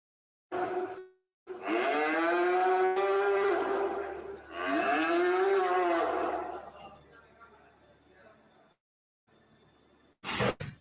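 Cattle mooing in a slaughter setting: several long, loud, drawn-out moos follow one another closely, with a quieter low rumble between them and a short sharp noise at the end.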